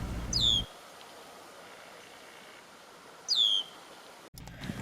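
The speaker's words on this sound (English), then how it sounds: "red-winged blackbird," Two brief, high, down-slurred calls from a red-winged blackbird, spaced about three seconds apart, moderately near, over faint low background noise.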